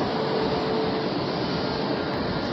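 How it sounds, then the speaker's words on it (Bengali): Steady, loud rumble of the 11447 Howrah–Jabalpur Shaktipunj Express at a station, a continuous broadband roar with no pauses and no voices. "এই ট্রেনটাও বেশ একটু বিফোর টাইম নিয়ে পৌঁছালো এই স্টেশনে"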